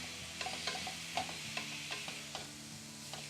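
Meat sizzles steadily in a grill pan indoors, a quiet, continuous crackle dotted with small pops and soft scraping clicks.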